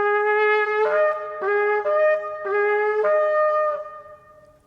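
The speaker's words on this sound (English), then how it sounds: "The second message of the shofar is shvarim, which in the Hebrew means broken." Shvarim on a shofar: a ram's-horn call broken into three short, clear, bright blasts, each with a rising start, heard alone and close, the last note fading out.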